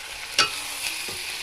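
Fish curry stirred in a pan, with a spoon scraping once sharply and then more softly against the metal over a low, steady sizzle of cooking; no voices.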